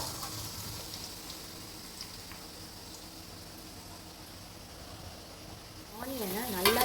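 Sliced large onions deep frying in oil, giving a soft, steady hiss and crackle throughout, faint and even, with a louder burst of sizzling near the end.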